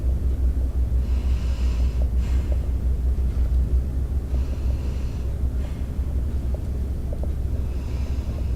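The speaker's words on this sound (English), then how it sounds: "just take some nice deep breaths for me." A patient takes slow, deep breaths during a lung check, heard as repeated soft, airy inhale-exhale swells over a steady low rumble, close and without talk.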